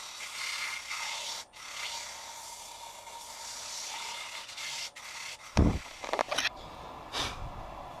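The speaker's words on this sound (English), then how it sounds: "I'll hit that again after I've done a little bit of sanding" Wood being hand-sanded with 80 grit sandpaper, a steady close rasping rub of long strokes with brief pauses, then a few louder scuffs toward the end.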